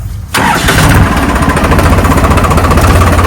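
New Holland 3630 Super Plus tractor engine cranks and fires after a brief quiet moment, settling at once into a loud, steady diesel idle with a rhythmic low throb.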